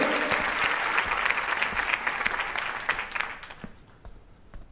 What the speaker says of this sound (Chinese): 大家掌声有请。